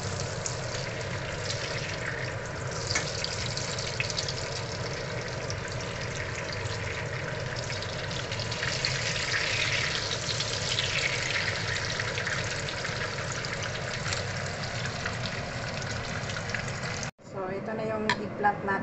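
Eggplant sizzles in hot oil in a pan while tortang talong is being made, a steady frying hiss that runs throughout. A brief clatter comes near the end and a voice talks over it.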